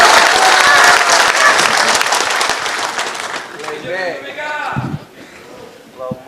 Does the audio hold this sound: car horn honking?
no